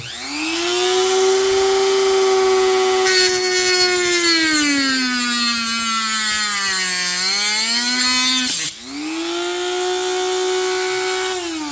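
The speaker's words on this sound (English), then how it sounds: "if you take this grinding disc and the rotary tool, you can take off a good chunk of the material" A rotary tool fitted with a grinding disc whines loudly as it cuts material for a homemade fingerboard, a sustained high-pitched tone that sags and rises under load, with one brief dip near the end.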